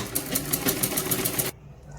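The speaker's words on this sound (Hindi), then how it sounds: "इस तरह हम इसकी कोनी तक सिलाई कर लेंगे मोड़ते हुए बराबर एक समान में" A sewing machine stitches a baby frock in a fast, steady rhythmic whir that stops abruptly near the end.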